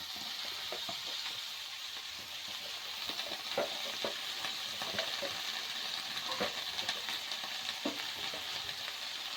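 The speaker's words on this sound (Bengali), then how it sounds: "শাকটাকে একটু নাড়িয়ে চাড়িয়ে দেব।" Bottle gourd greens get stirred in a pan after going into hot oil with a little turmeric, a soft continuous sizzle broken by repeated light scrapes and clinks of the spatula, fairly quiet and with no talking.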